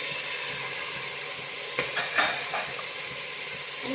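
Vegetables for paneer pulao, including potato, beans, carrot and cauliflower, fry in a pan with a soft, steady sizzle, broken by a few light clinks and stirring scrapes.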